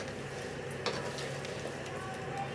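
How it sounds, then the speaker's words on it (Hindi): Chicken korma with garam masala powder cooks in a pot, giving a soft steady sizzle with a few faint clinks from stirring, close but quiet, with no talking. "इसे अच्छे से मिक्स कर लेंगे"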